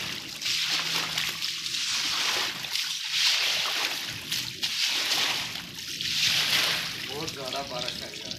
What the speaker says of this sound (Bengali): কীভাবে পানি যাচ্ছে দেখেন